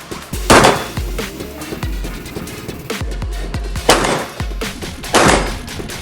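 Gunshots at a reaction shooting sport session with pistols or long guns, several sharp bangs at irregular intervals with echoing tails, loud and close.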